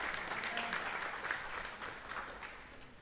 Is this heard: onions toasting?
no